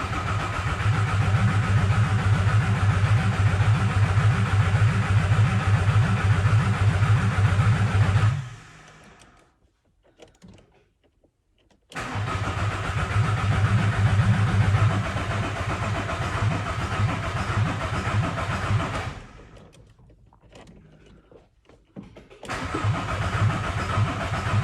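A campervan engine cranks on its starter in two long, loud, steady whirring bursts separated by a few seconds of near silence, without catching, close up.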